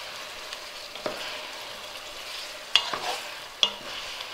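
Fragrant Chinese pork with kaffir lime leaf sizzles softly in a pan while being stirred, a low frying hiss broken by a few sharp clicks and scrapes of the utensil, with no voices.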